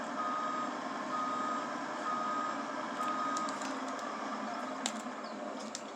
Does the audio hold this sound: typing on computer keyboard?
no